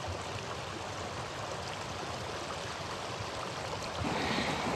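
Creek water in Cooper Canyon rushes in a steady, broad wash that stays fairly constant and grows slightly louder near the end, with no voices.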